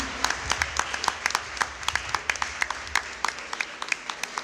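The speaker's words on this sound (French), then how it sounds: "Si vous êtes d'accord avec moi, acclamons tout le Seigneur." A church congregation applauds and acclaims the Lord with steady, rhythmic hand clapping that keeps an even beat throughout, full and moderately close.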